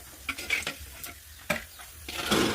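Whole spices sautéed in a pan for vegetable kurma, a few sharp stirring clicks and taps over a soft sizzle that grows louder toward the end.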